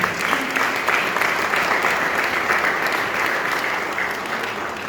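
Sustained applause from a crowd at a conference event, steady and fairly loud throughout, with no pauses.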